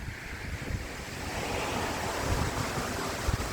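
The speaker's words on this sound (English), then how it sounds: "this is the River Stour apparently" Water on the River Stour rushes steadily alongside gusty wind buffeting the microphone in a continuous broadband wash, with no voices heard.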